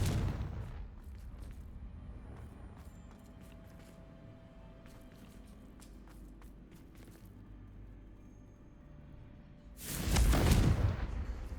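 A Confringo fire spell explodes in the video game Hogwarts Legacy, a sudden loud burst near the end after a stretch of quiet scattered game sounds, with the blast rumbling for about a second.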